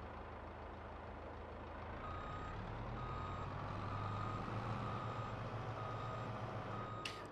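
Truck reversing beeps sound in Farming Simulator 22, on a farm field with a tree harvester and trailer nearby. Faint evenly spaced high beeps repeat over a steady engine rumble throughout.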